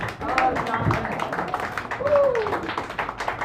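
Audience applause for a performer taking the stage at an open mic night at Sacred Grounds Cafe in San Francisco, a steady, moderately loud wash of clapping lasting the whole stretch, with a host's voice and some chatter over it.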